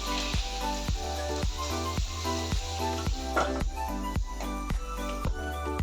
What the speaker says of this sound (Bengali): পটলটাকে ভেজে নিচ্ছি